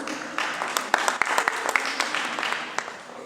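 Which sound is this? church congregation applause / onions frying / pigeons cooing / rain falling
church congregation applause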